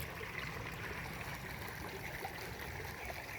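Hot sulfuric water flowing in a steaming stream over rust-colored rocks, a quiet, steady trickling and gurgling with soft bubbling close by.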